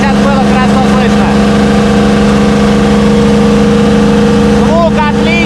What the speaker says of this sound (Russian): сейчас даем газку, проверяем работу мотора.